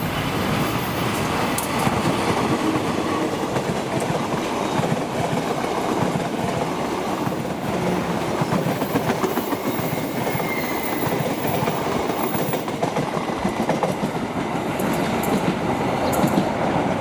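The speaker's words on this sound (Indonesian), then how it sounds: "hari ini kereta api Selayu Pagi KA 301 bawa satu kereta makan pembangkit luar dinas" Indonesian train KA 301 Selayu Pagi passing at Bekasi Timur with a dining and power car, a loud sustained rumble of wheels and clattering cars, with occasional high squeals throughout.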